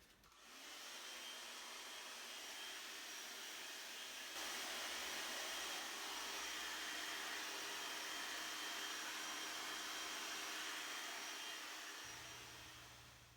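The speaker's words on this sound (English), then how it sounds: "dry it with the hair dryer at the same time" A hair dryer blows steadily on a freshly dyed beige leather car seat from a BMW E46, a loud continuous whooshing drone that holds for over ten seconds with a slight shift in tone partway through.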